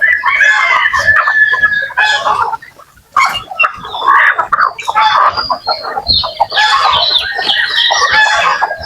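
Native chickens crowding in anticipation of feeding on a rainy morning, a loud close flock of overlapping clucks and squawks, with brief pauses and bursts of agitated calls.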